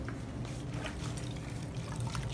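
A microfiber cleaning pad is wrung out by hand over a bucket, giving close, continuous trickling and dribbling water with soft squeezing, no voices.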